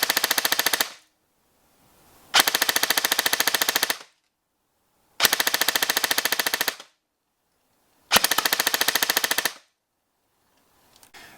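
Magpul Masada ACR airsoft gun firing BBs at around 14 rounds per second: three loud, rapid full-auto bursts of roughly one and a half seconds each, separated by short silences, with a brief fourth burst cut off at the start.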